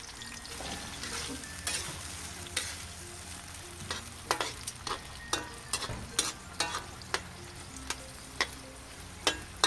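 Golden apple snails fry in oil with onion and garlic, making a steady sizzle broken by frequent sharp stirring clacks and scrapes of a spatula in the pan, with no voices.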